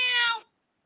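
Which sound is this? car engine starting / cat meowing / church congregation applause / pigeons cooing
cat meowing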